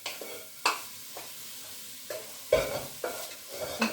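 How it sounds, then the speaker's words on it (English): Onions sweat gently in a pot for chicken and chickpea tagine: a quiet low sizzle under several distinct utensil knocks and scrapes against the pot. "So you can see there's the onions cooking away in the pot."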